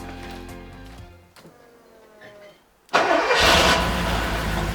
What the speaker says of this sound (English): I just turn the ignition on,